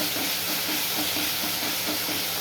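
Fish pieces fry in spiced masala in a pan, giving a loud, steady, close sizzle with a faint rhythmic pulse underneath as they are turned, and no voices.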